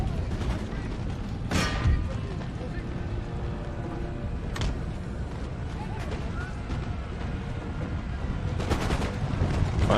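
Musket volleys from an Empire: Total War battle crack out as several sharp, broad bursts spaced a few seconds apart. Each one rises over a constant rumbling battlefield din.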